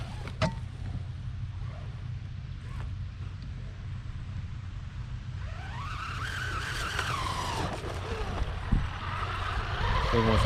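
A Traxxas Jato 4x4 VXL RC car runs at full throttle. A steady engine drone builds toward a high rising whine as it speeds up, with scattered tire scrabble and brief skids, all fairly close and loud.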